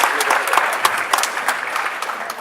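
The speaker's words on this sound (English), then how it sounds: "round of applause for our culinary students" An audience at a school recognition awards ceremony applauds culinary students, with steady, dense clapping from many hands and a few sharper claps standing out nearby.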